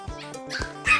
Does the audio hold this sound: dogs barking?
yes